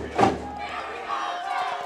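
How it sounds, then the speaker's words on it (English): Crowd of high school football fans in the stands cheering for the Spartans against the Pythons, a broad roar that swells early then holds as a sustained din with scattered shouts. "Spartan faithful cheering on their 2-0 Spartans against the currently 1-1 Pythons."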